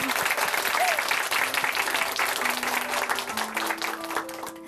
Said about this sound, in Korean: 우리 마음과 생각을 지키시고 인도해 주시는 성령님께 감사와 찬양 박수 돌려드리겠습니다